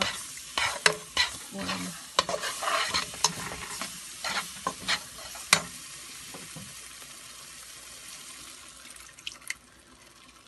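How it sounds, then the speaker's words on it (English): Milk poured slowly into a pan on the stove and stirred for stovetop potatoes au gratin, with close spoon scrapes and clinks over a soft sizzle that settle into quiet simmering; a single word is spoken. "now I'm going to be adding the milk slowly so that clumps do not"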